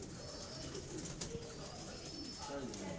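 Pigeons coo softly at a distance, low rolling calls repeating under a steady background hiss, with faint other bird sounds around them.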